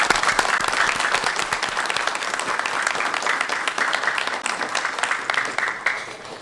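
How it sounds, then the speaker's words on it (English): An audience at a City of Commerce civic gathering applauds the Transportation Department with dense, steady clapping that carries on at an even level for several seconds. "if we could just give the Transportation Department a round of applause"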